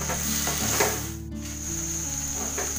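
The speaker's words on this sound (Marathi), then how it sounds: "आता चांगलं असं मिक्स करून घेऊया." Eggplant bharit with coriander and salt being stirred and mixed in a hot pan, a continuous close sizzle with scraping stirs, steady and fairly loud.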